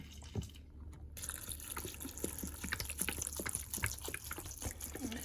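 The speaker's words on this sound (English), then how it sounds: "So we're going to literally cover these in vinegar." Vinegar poured over hot peppers in a jar for preserving: a faint, close trickle and scattered drips of liquid, quiet and continuous with no talk.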